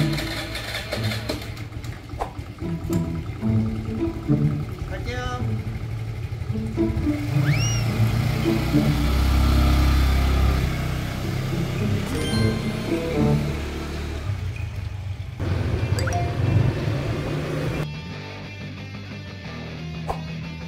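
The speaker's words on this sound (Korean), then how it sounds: "오토바이로 30분 거리 오토바이를 타고 이동할 겁니다" A motorcycle in a Vietnamese town near Di Linh idles and then rides off, its engine a steady mid-pitched drone close by. Street noise and brief bird-like chirps sound over it, and a short spoken phrase appears early on.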